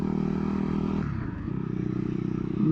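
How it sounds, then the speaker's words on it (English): Fantic Caballero Scrambler 500 motorcycle giving a short, loud exhaust bark while riding, a steady low engine drone that briefly drops and picks back up, with wind noise over it. "A nice little bark from that exhaust there."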